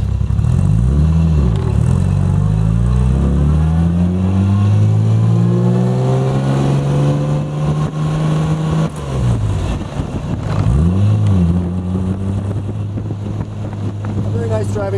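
1964 Jaguar E-Type Series 1 roadster, an early car that had been in storage, driven with its engine revving up through the gears in rising sweeps, then easing and climbing again, with heavy wind rush over the open cockpit.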